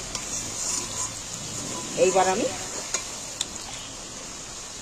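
Onions sizzling as they fry in a pan, a steady soft hiss with a brief stir and clink of a utensil midway, while someone speaks a few words.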